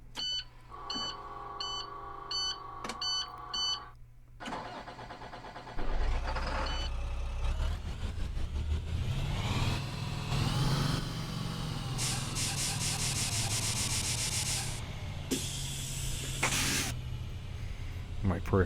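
A 2010 IC FE bus in the game Rigs of Rods, with a series of electronic beeps first, then the engine cranks and settles into a steady low rumble with whirring and hissing layered on top, and a person speaks over it.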